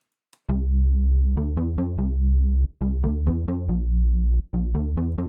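A dry, buzzy synth bass plays a rhythmic pattern of sustained notes and short repeated stabs, loud and upfront with brief gaps between phrases.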